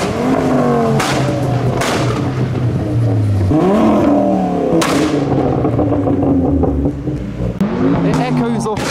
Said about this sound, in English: Ah, this is one wheel peel.